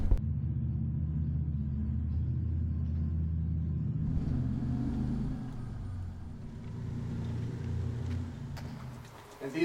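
A car drives through a World War II bunker loop on Washington's Juan de Fuca coast. A steady engine rumble from inside the vehicle shifts and fades as it moves through the enclosed space, with no talking.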